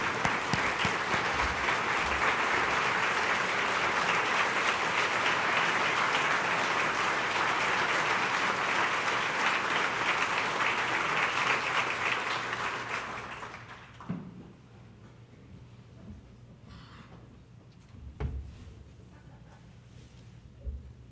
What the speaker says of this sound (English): show him a hand of applause of our gracious appreciation